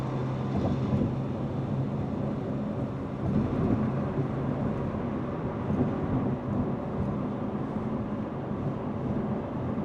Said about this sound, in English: listen to the cabin volume at these highway speeds